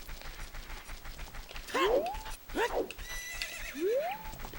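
A horse in the video game The Legend of Zelda: Ocarina of Time whinnies at Lon Lon Ranch during the horse-riding minigame, giving several rising, squealing neighs in quick succession over faint game ambience.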